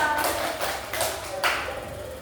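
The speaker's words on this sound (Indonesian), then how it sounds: "kasih tepuk tangan buat Faisal." Schoolchildren in a classroom give a short round of clapping for a classmate, a few loose, uneven claps under a continuous room murmur and some voices.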